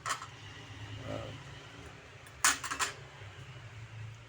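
A lid goes onto a cooking pot of chicken tinola with a brief, close metallic clatter and a couple of quick rattles. Low kitchen background hum continues throughout.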